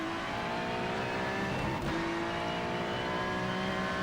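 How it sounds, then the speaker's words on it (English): GT3 race car engine during testing at Sebring, a loud, sustained drone with a brief shift in pitch near the middle, running continuously without talk. "Can you hear the car?"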